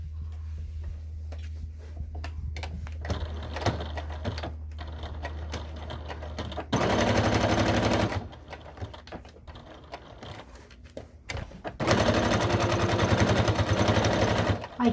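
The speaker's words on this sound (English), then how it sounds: "So we want to sew from the bottom, come all the way around" A sewing machine stitches a small fabric tea bag packet in bursts, its rapid needle rattle running steadily, pausing, then starting again louder, with light handling clicks between runs.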